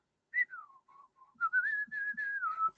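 A person whistles in imitation of a budgie: a clear, close tune of sliding, warbling notes, some held, with short gaps between phrases.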